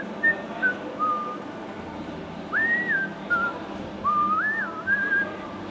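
A person whistles a wandering tune in short melodic phrases during beer brewing, fairly close over a low background hum with pauses between phrases.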